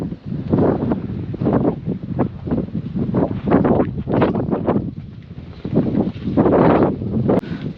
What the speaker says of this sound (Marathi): काय मस्त वारा वगैरे सुटलाय बघा